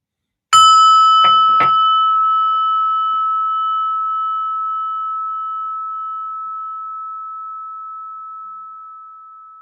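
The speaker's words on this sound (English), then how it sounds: "So our meditation, listen to the bell." A single meditation bell strike rings out clear and close, its pure tone sustaining and slowly fading over several seconds in otherwise silent surroundings.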